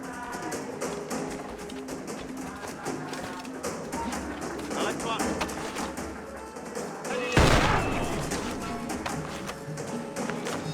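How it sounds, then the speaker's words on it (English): Blunderbuss fire in the Assassin's Creed IV Black Flag Freedom Cry game, one loud booming shot standing out amid ongoing combat clatter and music, under a narrator's voice. "it's best to use the blunderbuss, Adewale's powerful new weapon. It can easily kill tougher guards"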